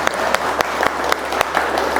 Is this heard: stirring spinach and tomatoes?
no